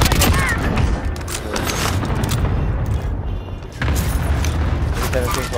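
Explosions from an enemy cluster strike in Call of Duty: Modern Warfare, heavy booms and rumbling blasts that roll on for several seconds, easing briefly before a fresh loud burst, with voices speaking over them.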